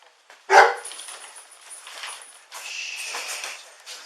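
A dog barks sharply and close at a police scene: one loud bark, then a few lighter yips and sounds of movement, with no voices.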